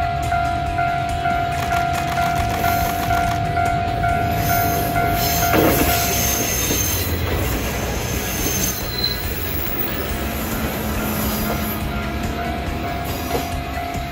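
An Isumi Railway KiHa 28 diesel train carrying an express headboard rolls past loudly and close, its wheels squealing steadily against the rails over a continuous rumble, with no talk.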